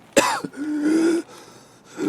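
In the Escape from Tarkov shooter, a character gives a sharp hacking cough and then a long strained wheezing breath, followed by a fainter rasp.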